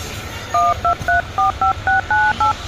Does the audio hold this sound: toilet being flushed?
no